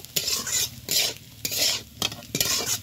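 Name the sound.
stirring cumin powder into fried grated potato in a pan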